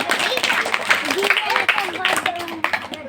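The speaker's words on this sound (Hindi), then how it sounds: "बहुत बड़ी, बजाओ तालियां।" A group of children claps during a religious quiz session, with short bursts of clapping mixed under chattering young voices.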